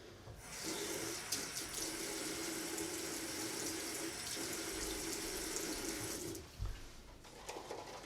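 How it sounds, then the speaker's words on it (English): Water from a tap runs in a steady, close, even rush for about six seconds during a shave with a Gem razor, then cuts off to quiet handling noises. "I'm gonna add a little bit more water."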